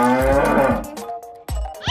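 A blue cartoon cow gives a loud, close, drawn-out moo lasting over a second, followed by a brief thump and a short tail of sound, with no talking.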